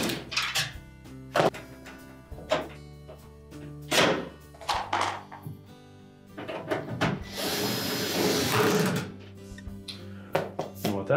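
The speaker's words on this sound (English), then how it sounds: "Install the retaining screws." Screws being driven into the outlet grill of a Whirlpool dryer during a blower fan repair, with sharp thunks and clacks, a stretch of whirring or scraping, and intermittent tool handling close by.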